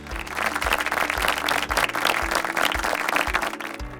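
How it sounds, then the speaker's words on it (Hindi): Audience applause at a family Bible quiz event, clapping mixed with a rhythmic music beat with regular low thumps, moderately loud and continuous. "तो ज़ोरदार तालियां हो जाए।"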